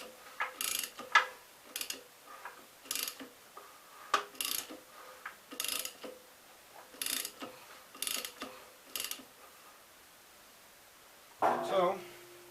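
A ratchet turns over a stiff 1952 Gravely engine, a string of sharp clicking pulls with steady pauses between them, close and alone, ending with a voice speaking briefly.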